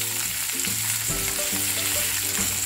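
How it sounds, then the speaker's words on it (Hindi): Vegetables for hakka noodles (mushrooms, mixed bell peppers, broccoli and carrots) stir-fried over a high flame, giving a steady loud sizzle with tossing and scraping in the pan, no voices. "इन सबको हाई फ्लेम में स्टर फ्राई करना है।"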